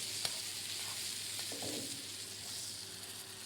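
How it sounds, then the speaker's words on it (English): Steak frying in a pan of browning fresh butter while being basted, giving a steady bright sizzle with faint scrapes and spoon clinks, continuous and close. "constantly just basting it with wonderful fresh butter"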